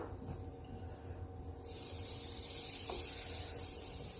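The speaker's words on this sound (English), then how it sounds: "now that the pan is hot, we're gonna go ahead and dump the butter in there." Butter dropped into a hot air fryer pan for an apple pie, starting with a quiet hum and then breaking into a steady, loud sizzling hiss that continues to the end.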